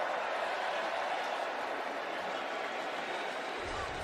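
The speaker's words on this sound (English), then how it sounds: "The cheer for the announcement that Dan Skipper is eligible." A large football crowd roars in a continuous broad cheer at a game announcement, a dense distant wash of voices and clapping holding steady for the whole few seconds.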